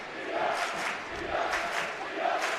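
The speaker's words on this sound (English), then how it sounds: "This crowd is electric." Loud basketball crowd packed into a high school gymnasium for a Grandville versus Rockford game, a steady roaring wash of cheering and shouting that swells and ebbs throughout.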